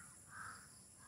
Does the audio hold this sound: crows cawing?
yes